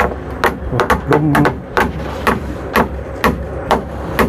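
Repeated hammer blows while a wooden roof frame is being built, struck in an irregular series of sharp, close knocks about every half second over a steady low background.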